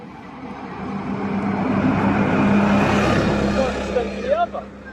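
A Tamiya TT02 radio-controlled car motor runs hard at top speed, a steady near whine and rushing drone that swells through the middle and ends in a brief rising whistle, with voices talking over it.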